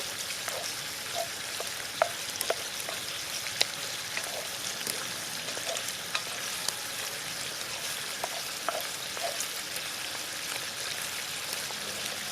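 Eggs with cheese, onions, peppers and tomatoes fry in a pan with a steady, close sizzle dotted by small crackles and pops, without any talking.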